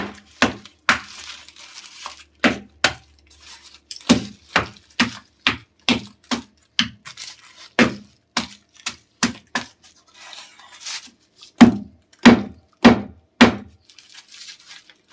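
Jaggery is broken into pieces with a long run of sharp, dry knocks and cracks. The impacts come close and loud in an uneven rhythm, with short pauses between bursts and no talk.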